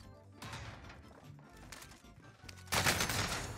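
Rapid automatic gunfire from a Fara rifle in Call of Duty Warzone's Verdansk, several bursts of close, sharp shots with a louder, denser burst near the end.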